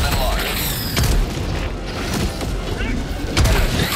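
A heavy landing impact from a Helldivers II hellpod in a video game, with booming thuds near the start and again toward the end over a dense bed of game noise and battle rumble.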